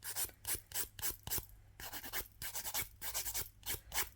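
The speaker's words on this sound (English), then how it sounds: "I'm just buffing over this nail now" A nail buffer rubs over a gel nail in quick, steady back-and-forth strokes, close and rasping, with a brief pause partway through and no voices.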